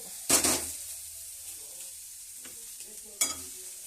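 Coriander seeds frying in a pan for onion chutney: a sharp burst of sizzling as they hit the hot pan, light stirring scrapes, then a second shorter sizzle burst.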